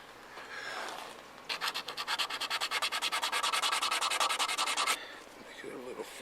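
Hand sanding over a repaired plastic interior trim piece from a Foxbody car, a quick rhythmic back-and-forth scrubbing of roughly a dozen strokes, close and fairly loud, with softer handling before and after.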